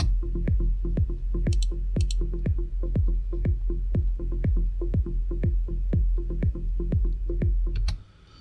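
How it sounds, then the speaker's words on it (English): A punchy electronic kick drum thumps in a steady four-on-the-floor pulse with a driving bass line and a deep sub bass underneath, looping loudly before stopping abruptly near the end. "So quite a punchy kick, driving bass line, and then a sub just sitting underneath it"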